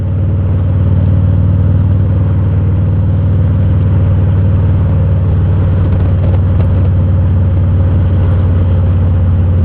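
A motorcycle fitted with Vance and Hines Shorty's exhaust rumbles along while being ridden, heard from close behind as a loud, steady low-pitched engine drone with no talking.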